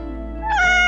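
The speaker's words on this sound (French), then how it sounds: "je trouve que ce miaou a l'air trop triste" A cartoon cat gives one sad, drawn-out meow that rises and wavers over a steady low hum, close and clear with no talk.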